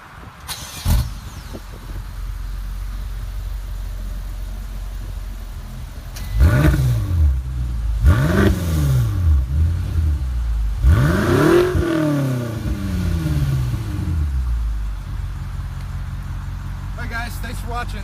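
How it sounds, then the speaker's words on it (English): A 2017 BMW X5 M engine idles, then revs sharply three times in succession, each rev climbing and falling, with people talking faintly around it. "Want to rev that engine one more time?"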